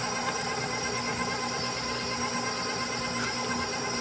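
An electric mixer blends sticks of butter with sugar for a 7UP pound cake, giving a steady, continuous motor whir with a gritty churning texture, close and unbroken.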